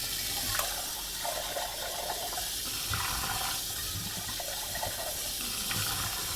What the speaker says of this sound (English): So I'm going to rinse the strainer one more time.